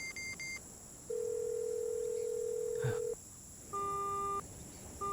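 Telephone tones sound after a call is cut off in a Hindi-dubbed action film. A short beep is followed by a long steady tone, then a pair of shorter tones, faint and heard over a hissy background.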